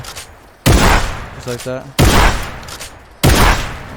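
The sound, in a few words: shotgun shots in Fortnite video game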